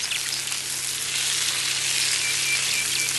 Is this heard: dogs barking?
no